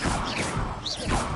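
Bombarda blasting spell cast in the Hogwarts Legacy video game, a loud crashing impact with a swooshing burst, sustained and dense with no talk.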